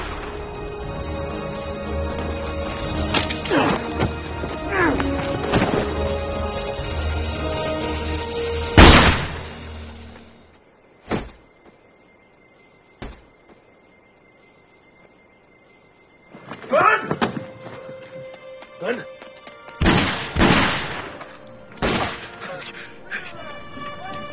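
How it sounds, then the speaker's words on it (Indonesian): Gunfire in a film's gunfight scene comes as loud sharp shots and heavy impacts, bursts spaced between stretches of near silence, with a dense battle rumble at the start. "Di tengah baku tembak yang sedang terjadi"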